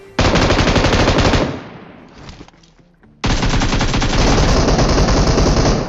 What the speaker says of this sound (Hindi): तो यहाँ पे घास में अंधाधुंध प्री फायर करता हूँ मैं